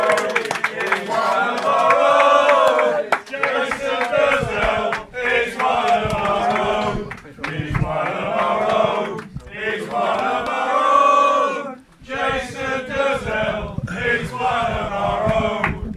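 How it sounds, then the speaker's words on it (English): A football crowd sings and chants loudly in repeated rhythmic bursts with short pauses between them, welcoming a former Ipswich Town player as a guest. "The crowd definitely in good voice, aren't they?"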